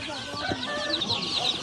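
Chickens cluck softly amid a busy poultry market in Manas, Kyrgyzstan, where chicks and turkey poults are sold, with short overlapping calls beneath steady crowd murmur and background chatter.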